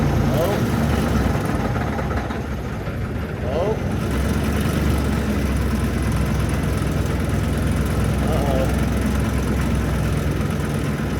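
A truck engine idles steadily with a low, constant rumble just before shutting off; a person briefly exclaims once.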